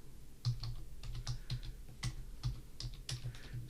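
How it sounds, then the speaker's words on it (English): Keys clatter on a computer keyboard in a rapid, irregular run of close clicks, with some louder strokes standing out, and no voice over it. "I'm going to type in my question here like this"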